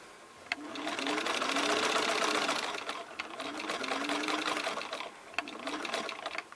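A sewing machine runs in steady close bursts stitching a seam over a seam hump, a rapid mechanical whir with brief pauses and small clicks between runs.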